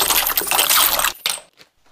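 Coins drop into a container of water, a dense clattering splash for about a second, then a brief final clink and quiet.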